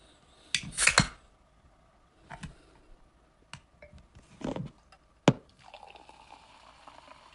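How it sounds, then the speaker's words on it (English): An alcoholic drink is poured from a can into a glass at a table, with soft liquid splashes and gurgles in short bursts, a few clinks and taps between them, quiet and close. "You can enjoy the sound of my pouring the alcoholic drink into a glass"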